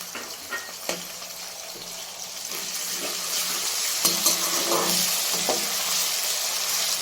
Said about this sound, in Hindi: तो इसको भी इस तरह थोड़ी देर तक फ्राई कर लेते हैं, ताकि इसका कच्चापन जो है वो सारा ख़त्म हो जाए।